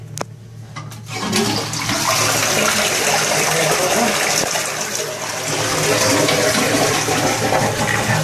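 A toilet flushes in a Japanese restroom in Osaka, a loud, close, rushing gush of water that runs steadily for several seconds after a few brief clicks at the start.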